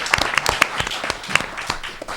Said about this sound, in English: So he deserves a round of applause before we get started here.